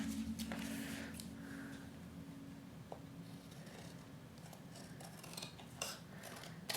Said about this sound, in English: Actually, I think with this one I'm going to use scissors.